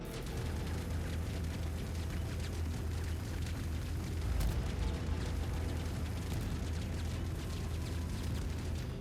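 Turret on an Anvil Spartan APC/IFV in a video game firing at a target, a dense, continuous rumble of booming rounds with low thudding weight, steady and loud throughout with a heavier burst midway.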